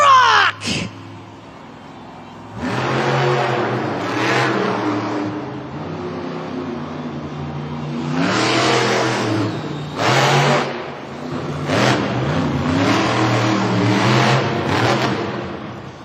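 Loud monster truck engines roar and rev in surges at a Monster Jam stadium event, a short burst at the start then sustained revving with rising and falling pitch as they fire up for the starting line.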